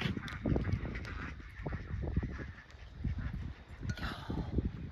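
Ducks and geese being fed in a park honk and quack in a noisy cluster, busy overlapping calls at moderate distance with some outdoor background noise.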